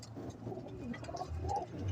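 Golden pigeon cooing softly at close range, a few low rounded coos over a steady background hum.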